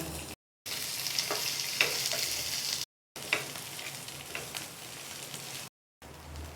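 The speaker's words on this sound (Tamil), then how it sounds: "இப்போ வெங்காயம் சேர்த்துக்கலாங்க. இப்போ இதை நல்லா வதக்கிக்கலாங்க." Onions for egg bonda sauté in a hot pan with a loud continuous sizzle and occasional spoon scrapes, broken by short silent gaps.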